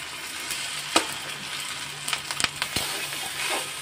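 Soya fried rice with Schezwan chutney and green chili sauce sizzles steadily in a hot pan, with a few sharp scraping clicks of a spatula as it is stirred.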